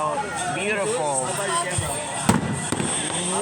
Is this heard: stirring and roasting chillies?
no